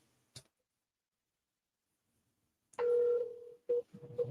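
A telephone call being placed gives a brief click, then a long steady tone followed by shorter tone bursts and a faint voice-like sound at the end, fairly close and otherwise quiet.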